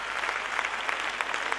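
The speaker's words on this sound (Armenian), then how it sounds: "Այո, ծափարեք ինքներդ ձեզ" A concert audience at a jubilee show applauds, a steady, fairly faint wash of many hands clapping heard from within the hall.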